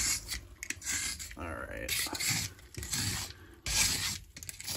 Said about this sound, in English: I got a little paint scraper here.